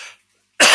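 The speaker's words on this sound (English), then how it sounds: "excuse me, and it's not a smoker's cough." A single sharp, loud cough bursts out at the end after a short silence, a brief dry-sounding cough from an adult man with morning hay fever.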